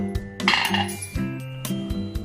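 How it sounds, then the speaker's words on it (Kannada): A pressure cooker lid being opened after the whistles, with sharp metallic clinks and clanks of the lid and pot, a few separate knocks and a ringing scrape up close, no speech. "ವಿಷಲ್ ಹೋದ್ಮೇಲೆ ನಾನು ಕುಕ್ಕರ್ ಓಪನ್ ಮಾಡ್ಕೊಳ್ತಾ ಇದ್ದೀನಿ."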